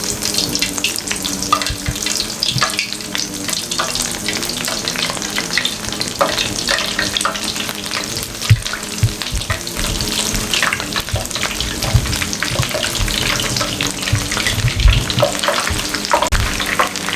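Chicken and egg burger patties sizzle steadily in a pan over medium flame, a dense continuous frying crackle with occasional sharper pops and scraping clatter, with no talking.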